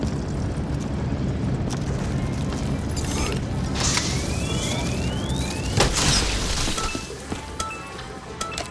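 A gumball machine in Call of Duty Zombies is cranked with a ratcheting mechanical clatter and creaking gears, laid over game ambience and a low rumble, ending in a few clicking knocks.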